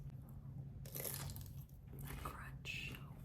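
Someone bites into a crunchy homemade cheese roll, a couple of close crisp crunches with chewing over faint background hum.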